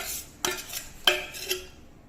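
Palm tuber cake mixture being stirred in a pan, with three distinct scraping clinks of a utensil against the pan over soft background noise, no talking.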